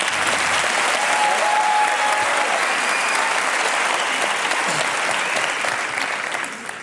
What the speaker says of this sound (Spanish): Fuerte aplauso para Miguel Ángel.